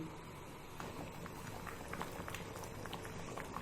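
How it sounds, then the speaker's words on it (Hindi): A pot of water with rice boils on the stove, giving a faint, steady bubbling and hiss with small pops throughout, with no talk. "जैसे ये पानी बॉयल हो जाएगा हम इसके अंदर राइस ऐड कर देंगे।"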